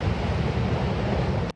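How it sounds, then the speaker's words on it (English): Large waves from Typhoon Doksuri crash against breakwaters along the coast of southern Taiwan, forming a dense, loud, continuous roar of surf and wind that cuts off abruptly at the end. "colossal waves slammed into the breakwaters and hurtled straight toward the roads"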